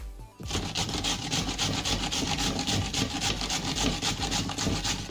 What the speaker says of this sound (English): I'll be using a grater to finely shred the cabbage.